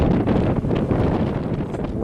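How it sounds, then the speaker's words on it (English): Heavy wind buffeting the microphone outdoors in Western Australia, a constant low roaring rumble with gusty fluctuations, loud and close. "way too windy to try and video anything"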